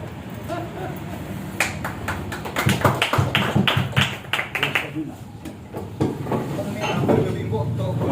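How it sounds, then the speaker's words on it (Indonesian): Scattered audience applause at a community literary gathering, a burst of claps building for a few seconds then thinning out, with voices talking in the room. "beri tepuk tangan untuk Bapak Rendra"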